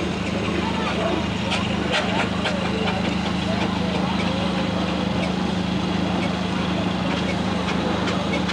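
A petrol-engined road roller runs steadily at a country steam rally, its low engine drone constant throughout, with faint clattering and crowd noise around it.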